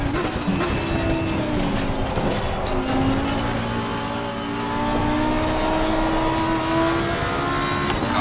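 A Ferrari race car engine in Assetto Corsa Competizione drones loudly and steadily throughout, with sustained high revving and layered engine tones, alone without talk.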